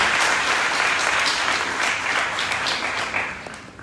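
A seated audience at a Dakar town hall ceremony applauds the mayor with dense, loud, sustained clapping that fades slightly toward the end, with no speech over it.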